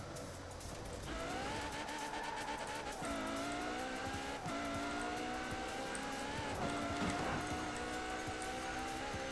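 Engine of a fast rental car revving and accelerating hard in the racing game Forza Horizon 4, rising through gears with a steady loud roar and tire squeal, no talk over it.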